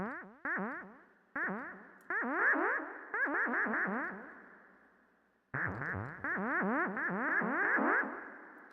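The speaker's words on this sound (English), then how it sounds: "let's introduce some reverb" Synth notes pass through a reverb send, repeated plucky chirping tones falling in pitch with a lush tail that rings out between phrases, then a fresh burst of notes sounds alone.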